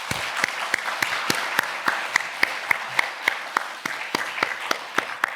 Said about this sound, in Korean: 우리 주님께 감사의 박수 드리겠습니다